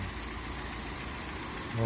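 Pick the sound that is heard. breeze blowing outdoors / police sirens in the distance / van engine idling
van engine idling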